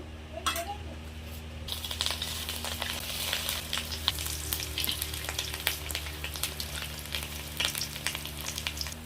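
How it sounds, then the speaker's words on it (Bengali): Fish roe fritters fry in white oil in a wok with a steady, close sizzle and crackle, punctuated by sharp metallic clinks and scrapes of a utensil against the pan. "সাদা তেল দিয়ে মাছের ডিমের বড়াগুলো ভাজবো"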